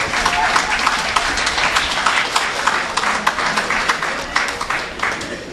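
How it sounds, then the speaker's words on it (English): Crowd applause at the opening of a rehabilitation center, dense and loud, steady clapping from many hands filling the whole stretch, with no talk above it. "Give them a round of applause"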